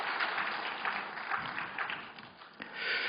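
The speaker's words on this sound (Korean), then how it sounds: "우리 격려의 박수 네, 보내드리겠습니다" Applause from a church congregation during a Wednesday worship service, honoring the women's mission society choir after its hymn. Steady broadband clapping fills the room throughout, fairly distant and even, with no one speaking over it.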